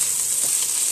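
Boiled chicken stock hits a hot pan of lightly fried ingredients, giving a steady, close, loud sizzling hiss for about a second.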